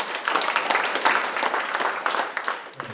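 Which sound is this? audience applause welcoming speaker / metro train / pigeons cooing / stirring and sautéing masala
audience applause welcoming speaker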